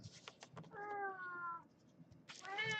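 A house cat meows twice, close by, each call a drawn-out, tonal cry with a pause between them, over a quiet room with faint handling noise.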